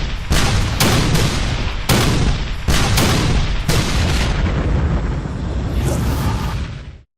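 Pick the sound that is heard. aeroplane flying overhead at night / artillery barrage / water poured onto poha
artillery barrage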